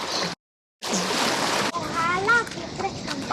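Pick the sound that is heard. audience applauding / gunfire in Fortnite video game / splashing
splashing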